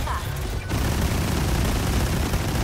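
Missile barrage explosions in the video game 13 Sentinels: Aegis Rim, a dense continuous roar of booms and gunfire-like blasts that swells loud after a brief lull, with a faint tone at the start.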